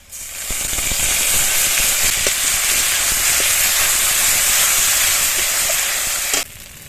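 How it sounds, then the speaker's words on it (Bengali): Loud, dense sizzling fills a pan as onion, garlic and ground spice paste fry together, holding steady for several seconds before dropping off abruptly near the end, with no voices. "পেঁয়াজ রসুন এরকম লাল মতো করে ভেজে নিয়েছি। এবার এর মধ্যে বেটে রাখা মশলাটা দিয়ে দেবো।"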